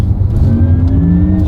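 A 2021 Porsche Taycan electric car pulls away hard, its loud close drivetrain hum rising steadily in pitch as it speeds up, with no talking over it.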